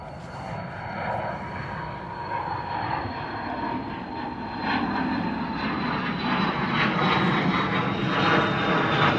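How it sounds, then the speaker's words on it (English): A Cessna Citation XLS private jet takes off and climbs at London Stansted Airport, its engine roar loud and steady with a thin high whine, swelling slightly as it passes close. "Here we go, Cessna Citation XLS on the move."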